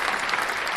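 A short burst of clapping celebrating the first gladiator in a PulseChain gladiator game, a dense, even patter with no clear individual claps, over in under a second.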